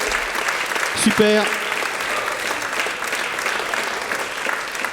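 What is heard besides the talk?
audience applause for the jury at awards ceremony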